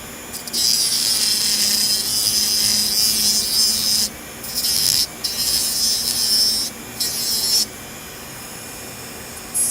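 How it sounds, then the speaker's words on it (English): An electric nail drill with an extra coarse sanding band shapes fingernails, giving a steady high-pitched whirring grind that breaks off briefly several times and then starts again, up close, with no talking. "I'm going to be using an extra coarse sanding band like usual to start the shaping process."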